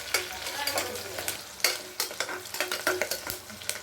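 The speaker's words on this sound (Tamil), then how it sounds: "வசக்கு நல்லா வசக்கிக்கணும்" Onions sautéing with green chillies and curry leaves in a pan, with steady sizzling and repeated scraping strokes of a spoon stirring them, close and fairly quiet.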